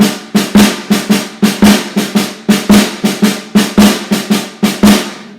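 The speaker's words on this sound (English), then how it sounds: "Our snare is doing what the double shuffle was doing" A drum kit plays a steady shuffle groove, snare strokes driving a bouncy rhythm with bass drum and hi-hat underneath, loud and close.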